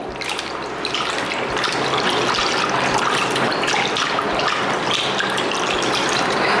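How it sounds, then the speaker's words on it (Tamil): Cooked mussels are rinsed in water, producing continuous splashing and running water that stays close and fairly loud, with faint clinks of shells beneath. "ஸோ வந்து ஒரு 2-3 தண்ணியில் அலசி எடுத்துருங்க"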